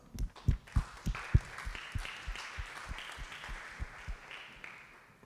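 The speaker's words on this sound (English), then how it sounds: "So let's give an applause." Audience applause at a pitch competition for an electric bicycle startup, a burst of clapping that starts strong with sharp claps and then thins to a softer, steadier patter.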